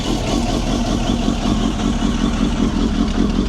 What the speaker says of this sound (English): YOSHIMURA tri-oval and a little staffy exhaust on this K1